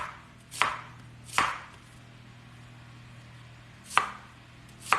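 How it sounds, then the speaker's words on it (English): A knife cuts a small Vidalia onion into thin slices, and four crisp, distinct chops land on a cutting board at uneven intervals, close and clear against a quiet background. "I'm going to cut some little thin pieces of onion"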